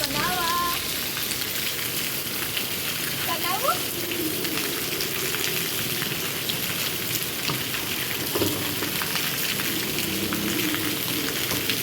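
Rain falls steadily in a village, a dense, even hiss of drops striking surfaces that runs throughout, with faint voices briefly audible in the background.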